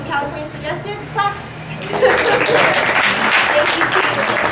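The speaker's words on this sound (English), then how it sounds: "Clap." Audience at a community forum on the Local Control Funding Formula breaking into steady, dense clapping after a short stretch of speech, the applause filling the room and holding to the end.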